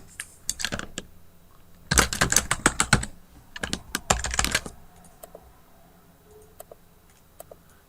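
Rapid keystrokes clatter on a computer keyboard in bursts, with dense clusters of clicks separated by pauses and a few isolated taps near the end, close and clear with no talking.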